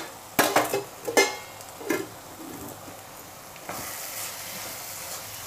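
Chili powder, salt and spices for an egg curry crackle in a pan. A few sharp scraping stirs come first, then a steady, softer sizzle settles in.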